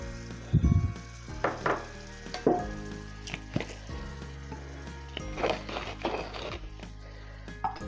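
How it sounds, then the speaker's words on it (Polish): Butter melting and sizzling in a pan on an electric hob for a béchamel sauce, a close, low sizzle broken by scattered clinks and scrapes of utensils. "Na razie rozpuszczamy masło."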